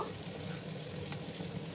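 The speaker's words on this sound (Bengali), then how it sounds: "আরও কিছুক্ষণ সময় নিয়ে আমি সবজিগুলোকে একটু ভাজা ভাজা করে নেব।" Mixed vegetables with paneer sizzling and frying in a pan, a steady continuous hiss with faint scraping of stirring, fairly quiet and unbroken throughout, no talking.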